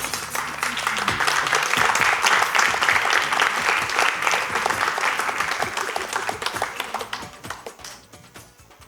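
An audience at a television show's anniversary celebration applauds for a cast member, dense clapping building quickly, holding strong, then thinning and fading out near the end.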